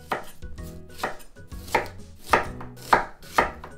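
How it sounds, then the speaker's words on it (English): A knife slices cabbage into strips on a cutting board for Japanese stuffed cabbage rolls, about six distinct crunchy cuts spaced roughly half a second apart, each ending in a soft board thud, close and without talk. "And then the other half I'm gonna cut into just strips."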